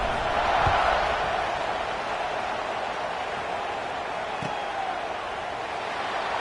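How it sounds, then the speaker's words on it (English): A stadium crowd at a college football video game gives off a steady, broad murmuring roar, like distant cheering noise, with a couple of faint thumps underneath. "this crowd is buzzing after that last score"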